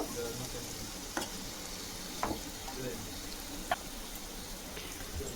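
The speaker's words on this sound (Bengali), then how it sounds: "একটা এরকম প্যানে দিয়ে খুব ভালোভাবে এটাকে একটুখানি সময় নিয়ে একটু ভেজে নেব" Marinated paneer fries in a pan with a continuous close sizzle, broken by three or four sharp clicks from the pan or spatula, and no one speaking.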